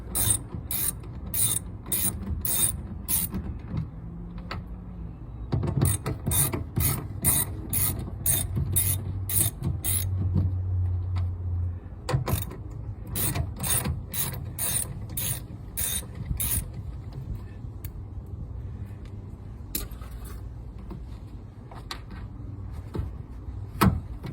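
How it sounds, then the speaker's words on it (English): A ratchet wrench backs out three 10 mm bolts holding the factory rear speaker in a 3rd gen Toyota Tacoma Access Cab, giving bursts of rapid close clicking separated by pauses, with no talk. "there are three 10 millimeter bolts holding the factory speaker in. We'll just go ahead and remove them."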